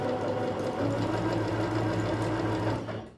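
A Singer Curvy sewing machine stitches at a steady, continuous hum, close and fairly loud, running for about three seconds before slowing at the end.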